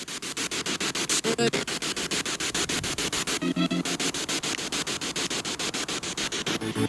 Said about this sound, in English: Use the white noise.